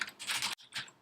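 A computer keyboard being typed on to enter a username at a login prompt, a short quiet burst of rapid keystrokes with a brief pause before a final few taps.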